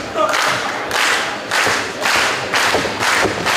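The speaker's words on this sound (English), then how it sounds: "I like the clapping here in Orlando" A wrestling crowd in Orlando claps in loud, rhythmic unison bursts of about one per second, with thuds from the ring mixed underneath, during a bout between El Generico and Bryan Danielson.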